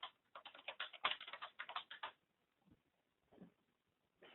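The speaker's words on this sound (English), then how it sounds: "type in my user and password" A username and password are typed on a computer keyboard in quick, close, clicky bursts of keystrokes, a dense run followed by a pause and a few scattered taps.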